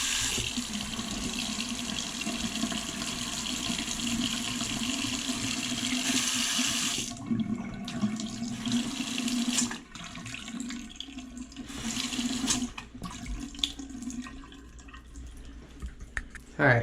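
Steady rushing water runs from a pipe, then thins into intermittent gurgles and trickles with a few clicks as the flow tapers off.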